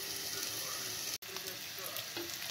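Smoked pork loin frying in added fat in a pan while making carbonara, giving a continuous close sizzle with a brief cut-out midway.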